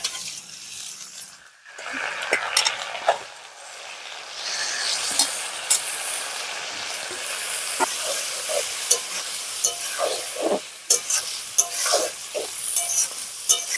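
Potatoes and green chilies sizzle steadily as they fry in a little oil in a pan, with frequent scraping stir strokes and bubbling crackle throughout.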